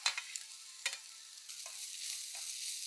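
Ground paste drops into hot coconut oil with mustard seeds and sizzles in a steady quiet hiss, with a few sharp pops and scrapes of stirring early on and no voices.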